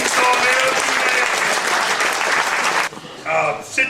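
Applause for fourth-place winners in a mixed doubles category at a sports awards ceremony, loud sustained clapping that cuts off abruptly, followed by brief talking and a short burst of clapping.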